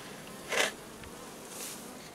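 Honeybees buzz around a Layens hive during a honey harvest, a faint steady hum with one short louder buzz as a bee passes close, then another softer swell.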